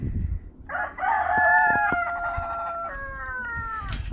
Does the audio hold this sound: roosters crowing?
yes